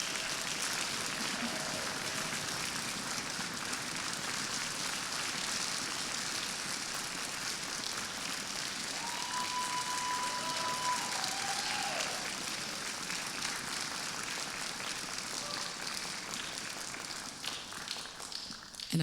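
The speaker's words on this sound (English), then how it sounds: "could all the seniors please rise and receive our applause and congratulations" Audience at a high school orchestra concert applauding graduating seniors, a dense, steady patter of clapping from a large crowd lasting throughout, fading slightly near the end.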